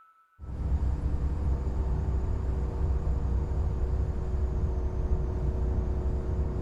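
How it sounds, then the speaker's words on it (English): A restored 1964 Porsche 356 C Coupe under way, its engine and road noise forming a steady, dense rumble from inside the car that starts abruptly and holds evenly throughout, with no talking. "Driving a 1964 356 C Coupe."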